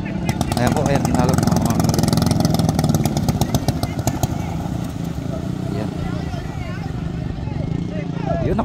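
Engines of racing boats at a boat race in a barangay, a loud continuous motor roar with rapid rattling pulses, close by, under excited commentary.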